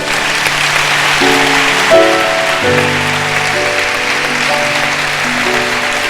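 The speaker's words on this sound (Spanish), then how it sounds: "Denle un aplauso a Dios," Congregation applauding at a national church congress in a worship service, steady broadband clapping held throughout with sustained music tones underneath.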